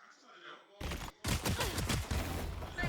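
Gunfire sprays in a Valorant esports match, short bursts of rapid shots close and loud after a brief quiet start, with a caster talking over them.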